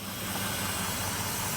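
A 4.7L engine that knocks, held at a steady fast idle of about 2,500 RPM, gives a continuous broadband drone with no talk over it.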